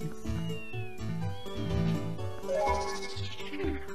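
A cat meows in a video game, several drawn-out mews heard over steady game music, with no talking.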